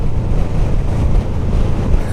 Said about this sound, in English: Man, it's so windy down here.